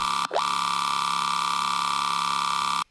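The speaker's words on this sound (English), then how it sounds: "And now, all together, our bass sounds like this." A loud, sustained buzzing dubstep synth bass tone holds steady for nearly three seconds, with a brief pitch swoop at the start, then cuts off abruptly.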